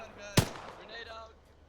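A grenade explodes in the video game Arma 3 with a single sharp, loud blast that trails off into a rumbling decay, surrounded by game ambience.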